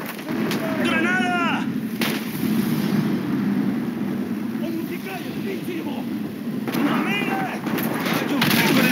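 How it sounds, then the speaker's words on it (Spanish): A grenade blast and gunfire in the video game Call of Duty Modern Warfare 2, a loud continuous rumbling barrage of booms with shouting voices over it at the start and end. "¡Granada!"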